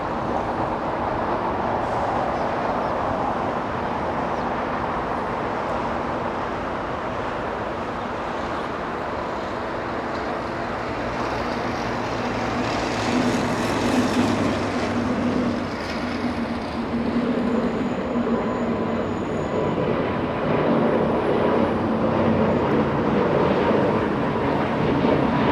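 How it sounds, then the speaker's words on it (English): A Qantas Boeing 787 Dreamliner arrives at Los Angeles from Sydney, a broad distant jet rumble swelling slightly midway and holding steady, with no voices. "It's QF-17. It's a Dreamliner. Flying in from Sydney, Australia."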